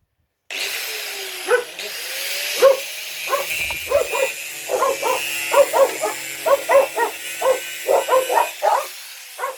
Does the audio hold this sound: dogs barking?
yes